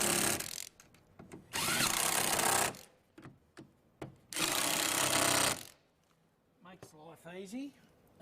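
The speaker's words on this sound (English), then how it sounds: "if you've got an electric screwdriver" An electric screwdriver drives screws in two long steady whirring bursts, each a couple of seconds, loud and close, separated by small knocks and handling clatter, with a person talking briefly at the end.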